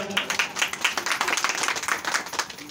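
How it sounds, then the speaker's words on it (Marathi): An audience clapping at a pension distribution event in Bhandara, Maharashtra, a brisk burst of many hands applauding together at moderate distance, steady for a few seconds with no talk. "टाळ्या वाजवा सगळ्यांना."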